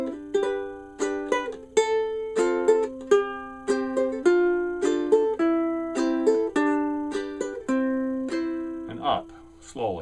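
Ukulele strummed in a boom-chicka pattern during a chord melody fingerpicking lesson: a steady alternating rhythm of bass plucks and brush strums, close and clear, with no talking.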